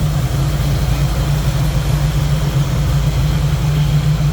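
A 1967 Pontiac Firebird coupe with an Edelbrock carburetor idles steadily, a deep, even low rumble that holds close and constant throughout with no talk over it.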